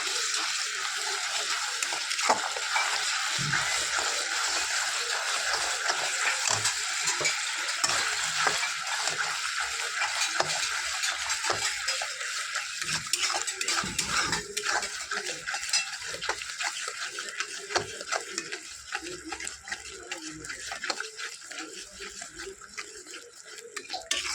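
Spices and sour yogurt are stirred in a pan for doi katla, with continuous scraping and clattering strokes of a spoon against the metal over a steady frying sizzle, close and without any voices.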